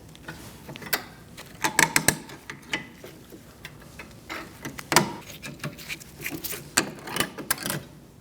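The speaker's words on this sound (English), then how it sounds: "We're going to remove this spring clip. I'm using needle nose pliers on a right angle." A brake spring clip being worked off a 2000-2006 Mini Cooper rear brake with right-angle needle nose pliers gives close, irregular metallic clicks, snaps and scrapes, with several sharp ticks clustered across the span.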